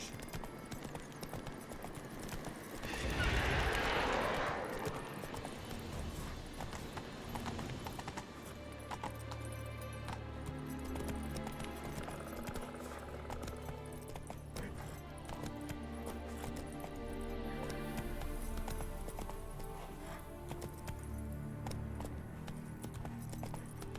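Roach, a horse in The Witcher 3, gallops in steady clip-clopping hoofbeats with a snort or whinny near the start, set over a low game soundtrack and ambient hum.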